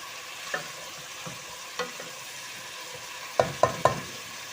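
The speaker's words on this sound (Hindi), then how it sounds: "ये हमने अपने ऑयल डालकर प्याज ब्राउन होने के लिए रख दिए हैं।" Onions frying in oil to a light brown for a mutton mince dish, with a steady soft sizzle under several sharp stirring scrapes and clinks, some clustered together near the end.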